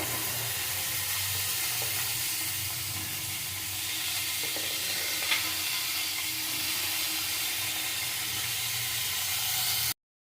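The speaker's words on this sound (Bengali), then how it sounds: "একদিকে আমি সবজিগুলো ভেজে নেব সব সবজিগুলো ভেজে নেব" Vegetables frying in a pan for daliya khichdi, a steady broadband sizzle and hiss running continuously with a few faint clicks, then cutting off abruptly near the end.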